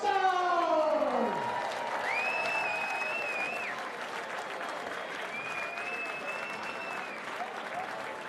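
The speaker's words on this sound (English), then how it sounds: "a massive round of applause for Little Richard" Crowd applause and cheering at a darts championship arena, a broad steady roar of clapping from a large audience, with a brief high whistle-like tone near the start and faint electronic tones over the crowd.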